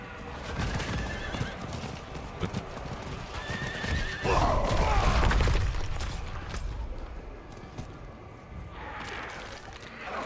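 A horse in the Diablo 4 video game whinnies and snorts while its hooves clip-clop steadily over ground, with a louder neigh mid-clip among game ambience.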